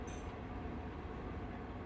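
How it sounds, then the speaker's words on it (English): Train wheels roll over a bridge on a night train through the Alps, a low, resonant rumble that holds steady and continuous from start to finish, with no voices. "The sound of the wheels changes on the bridge, deeper, more resonant, as if the train were briefly inside a bell."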